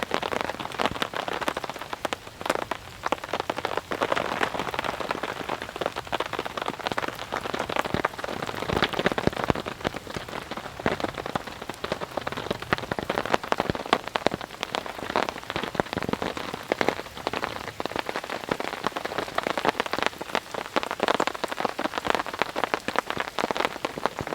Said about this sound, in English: So, hopefully, all of this rain will help.